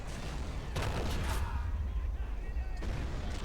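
Dense, continuous gunfire and artillery blasts from the toy-soldier war game Army Men of War fill the scene, loud and rumbling. Bursts thicken in two louder surges, and a voice may sit faintly beneath the din.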